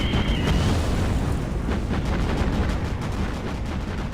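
Anti-aircraft flak in the World War II naval game Battlestations Pacific, a dense, continuous roar of booming bursts and crackling detonations that rumbles steadily and loudly throughout with no voices.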